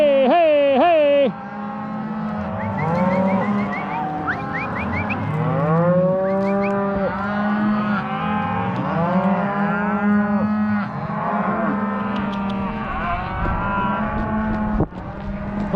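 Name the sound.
cattle mooing on a Montana cattle drive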